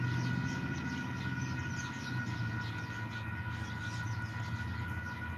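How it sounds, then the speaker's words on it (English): A train rolls past near Pearce, Arizona, a steady loud rumble of rail cars with a continuous wheel-on-track roar and a high sustained tone, with no talk over it. "we got a train coming, guys, so gonna give it a minute"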